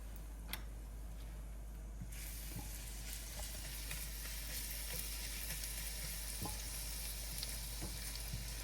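Minced garlic sizzles in a hot pan for shrimp scampi, a steady loud frying hiss with small crackles and pops, close and continuous with no talk over it.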